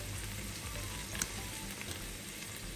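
Basil, chili and lime leaf softening in a pan for Thai green curry, giving a quiet, even sizzle close by with one faint tap partway through.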